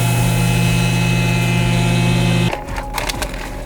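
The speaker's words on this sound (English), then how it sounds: "So to start the process, it's like any other vacuum procedure on a VacMaster model." A VacMaster gas flush vacuum sealer runs with its lid closed, giving a loud steady motor drone with a strong low hum that cuts off abruptly partway through, leaving quieter clicks and rustles.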